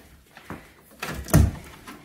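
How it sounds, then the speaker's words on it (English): A door is opened in a house under renovation, giving a few soft knocks and rattles and then a heavier thud as it swings. The sounds are close and brief, with no talk. "Right now, if you open this door,"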